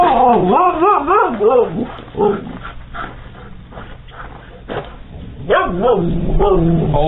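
A dog barks, whines and pants loudly and close by at a delivery driver, in an uneven run of yelps and whimpers with muffled background noise.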